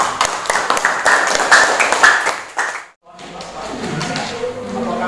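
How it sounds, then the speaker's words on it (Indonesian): A classroom of students claps together in one brief burst of hand clapping, loud and dense for about three seconds, then it stops abruptly into quieter room sound with a voice speaking. "Tepuk tangan sekali."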